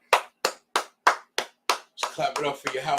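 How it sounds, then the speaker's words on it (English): Six sharp, evenly spaced hand claps ring out in a slow, steady beat, close and distinct, before a voice starts talking over the last moments. "Let's clap it up"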